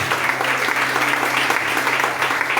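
A congregation at a Portuguese-language preaching service applauds loudly and continuously, many hands clapping in a dense, even stream over a low steady hum.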